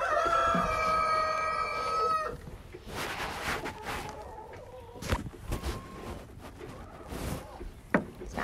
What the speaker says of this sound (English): And I have an unhappy hen in there